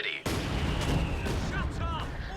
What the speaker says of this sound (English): that mortar half track's actually doing a lot of damage to my emplacement here